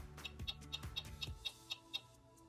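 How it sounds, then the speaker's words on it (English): A clock ticking in an even, regular rhythm, about two sharp ticks per second, faint and clear, with a low thump fading out early. "Clock."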